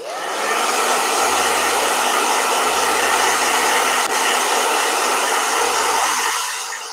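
A blow dryer runs close by at full power, a loud, steady whooshing hum for the whole stretch that eases slightly at the end.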